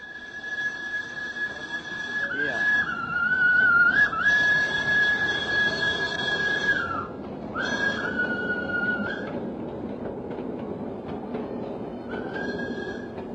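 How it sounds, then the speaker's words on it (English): A steam tram in a colonial-era street gives a long shrill whistle in several sustained blasts with brief breaks, over a rumbling, clattering running noise, loud and fairly close. "the steam tram bustled through this little Holland in the tropics"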